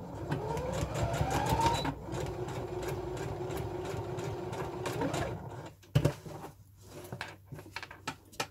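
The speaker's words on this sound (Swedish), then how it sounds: "Jag kommer sy på symaskin." Sewing machine stitching a corset, a rapid mechanical whirring run that stops after about five seconds, followed by a few clicks and handling knocks, fairly quiet.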